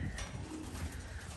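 Pigeons in a small loft of flying birds, with low cooing and soft bird calls blended into a steady, close background murmur of movement and rustle.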